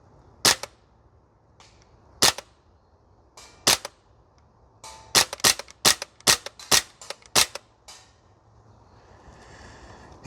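An Archwick APC9K PRO gas blowback airsoft rifle firing 0.4 g BBs on a range: sharp, loud, close snapping shots, a few spaced single shots, then a quicker cluster of about eight, with no talking.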